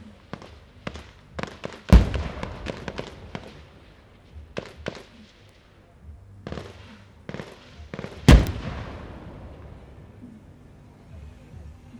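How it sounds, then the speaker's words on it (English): Explosions from a military raid exercise during a firepower demonstration, with two loud sharp blasts whose rumble trails off, amid scattered pops and crackles of gunfire at a distance. "The explosion signifies the success of the mission."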